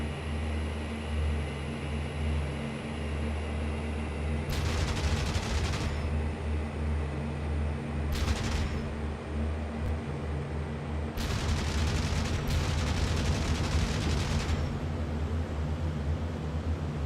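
P-38 aircraft guns fire in IL-2 Bodenplatte in several sustained bursts of rapid automatic fire, each lasting a second or more, over a steady engine drone.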